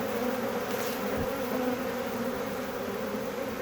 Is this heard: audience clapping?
no